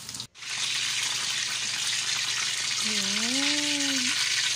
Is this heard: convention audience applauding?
no